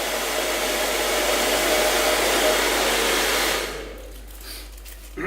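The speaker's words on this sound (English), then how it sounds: "So after 3 minutes under the hairdryer," A hair dryer blows steadily on chocolate to melt it, a loud, continuous whooshing roar that cuts off after about three and a half seconds, leaving quieter room sounds.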